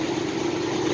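Car engine idling steadily just after a cold start, a continuous low hum with a strong droning tone, close and even throughout with no talk.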